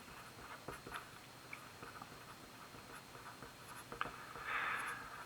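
Marker or chalk writing on a classroom board during a math lecture: scattered soft strokes and taps, faint and fairly close, with a brief denser scratchy run near the end and no talking.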